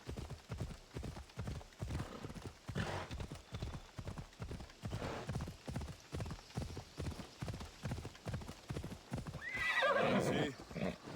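Steady clip-clop of horse hooves trots along at an even pace, faint and a little distant, ending with a sharp, high neigh.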